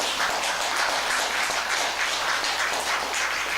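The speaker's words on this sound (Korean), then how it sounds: "박수 칠만해요." An audience claps together during a Buddhist lecture in a hall, a dense, steady patter of many hands held at an even level for several seconds with no voices over it.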